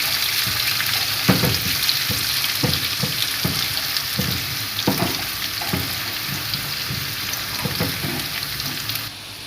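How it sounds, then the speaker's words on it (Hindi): A tadka of sliced onions for karhi pakora fries in hot oil with a steady, loud sizzle, broken by scattered clinks and scrapes of stirring close to the pan. "अब हम इसको तड़का लगाते हैं।"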